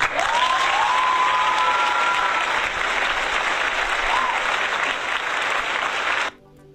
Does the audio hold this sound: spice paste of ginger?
no